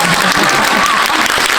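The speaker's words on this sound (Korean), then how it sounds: "오늘 박수를 너무 많이 받네요." Loud, dense applause fills a cinema during a post-screening guest talk with the film's actress. Many hands clap in one continuous close wash with no break and no speech on top.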